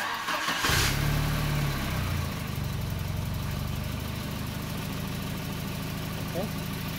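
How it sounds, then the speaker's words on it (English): A Volvo 940 Turbo fitted with a single-channel CDI ignition module cranks and catches with a brief burst, then settles into a steady, low, close idle rumble. "I'm going to turn on again the engine just to show you that this module"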